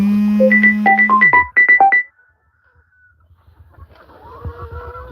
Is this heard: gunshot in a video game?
no